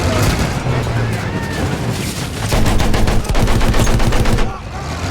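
Sustained automatic gunfire in Battlefield 1, loud rapid bursts layered with battlefield noise and a few heavier shots, while someone talks over the shooting.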